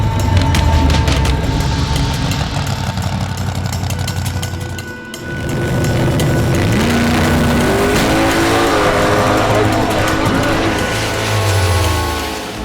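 A drag race car makes a full pass running deep into the 8s with its front tires lifted, a loud close engine roar that dips briefly, then climbs through rising gear pulls before fading.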